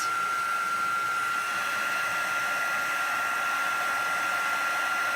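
A heat tool blows hot air steadily over stamped Halloween cards to emboss them, producing a continuous, close, even whooshing roar with a faint whine and no talking.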